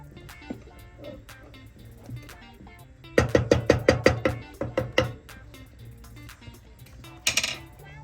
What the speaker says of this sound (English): You gotta continue whisking it around and around